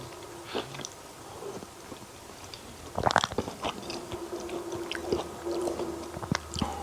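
A person eats venison soup with noodles, meat, vegetables and tomatoes, with soft, close biting and chewing sounds that grow busier partway through, faint and intermittent.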